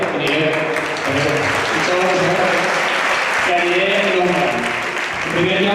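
A loud, dense crowd applause fills a school music arts event without a break, while a speaker talks over it.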